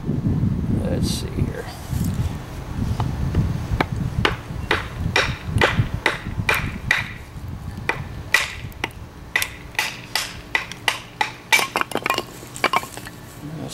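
California buckeye, a soft wood, being split by hand, with a run of sharp clicking knocks and cracks that grow more distinct toward the end, over low rustling, with a person talking.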